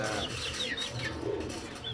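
Soft, throaty cooing of several pigeons blends with light chirps, continuous and close, with no voices.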